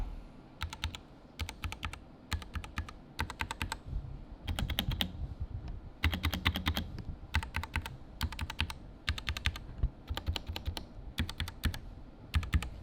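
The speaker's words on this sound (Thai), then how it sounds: "เดี๋ยวผมจะลองทดสอบการกดเสียงของคีย์บอร์ดนะครับ" Rapid bursts of mechanical keyboard key presses on an RK96 keyboard, clicky and close, typed in quick runs separated by brief pauses.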